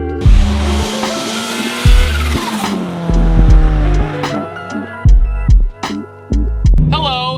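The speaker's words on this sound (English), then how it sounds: "let's drive this freaking crazy thing" Ford Mustang RTR Spec 5, 10th Anniversary edition, driven hard: a loud close-up engine repeatedly revving and shifting gears while tires squeal and skid through the whole run.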